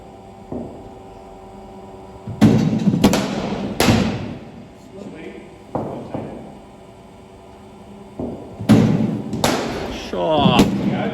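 Bat strikes during a group cricket power-hitting session in an indoor net: several loud, sharp thuds come in clusters with gaps between them, over a steady low hum, and coaching voices can be heard around the hits.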